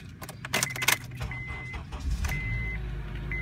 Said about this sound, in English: I'm going to start the vehicle up for you.